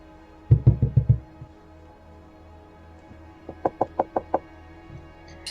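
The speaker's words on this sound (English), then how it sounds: "you hear a knock on the door as Emiera checks to see if you're ready" Two sets of knocks on a door: five loud, heavy raps in quick succession, then after a pause five lighter, sharper knocks, with no talk.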